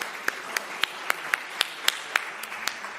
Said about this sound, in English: Please join me in a big round of applause for yourself and our panelists.